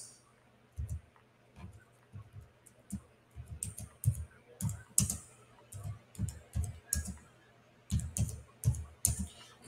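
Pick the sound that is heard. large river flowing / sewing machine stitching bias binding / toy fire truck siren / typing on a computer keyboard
typing on a computer keyboard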